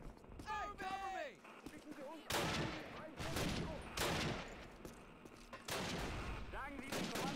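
Rapid rifle and machine-gun fire crackles through a Call of Duty battle in the Hurtgen forest, with overlapping bursts and shouting soldiers under the shooting throughout.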